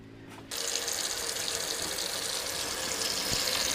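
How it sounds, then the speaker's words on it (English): Cold water from a tap starts running after half a second of quiet and then flows steadily as a loud, close, continuous gush during a water softener maintenance check. "So I'll just run the cold water here."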